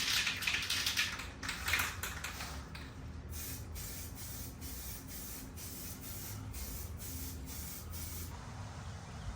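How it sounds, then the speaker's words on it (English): Spray paint hisses steadily onto a pickup truck's interior console, a close continuous spray with bursts that pulse on and off in a regular rhythm, no voices. "Here I started spraying the console."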